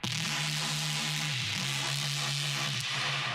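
A sustained synth tone with a steady low drone, heavily washed in reverb and noisy hiss, the pitch stepping down briefly midway before holding again.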